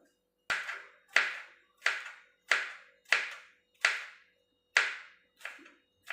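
A knife chops through okra on a cutting board, giving eight or nine crisp, evenly spaced strikes about two-thirds of a second apart. Each cut is close, clear and sharp with a short ringing tail, and there is no talk.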